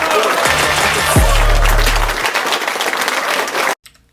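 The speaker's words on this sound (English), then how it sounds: "Let's give him a round of applause." Audience applause from a crowd, loud and steady for several seconds before cutting off abruptly.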